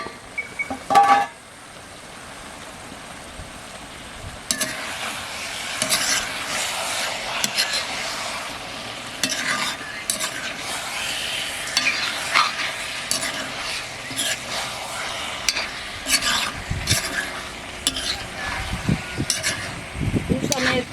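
Chicken curry simmers in a pan while being stirred, a continuous close sizzle with frequent scraping and clinking of a utensil against the pan after a brief clatter of the lid.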